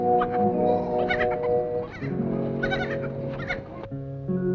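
Several goats bleat in a rural village setting, a run of loud, wavering cries that repeat and overlap close by, with no talk over them.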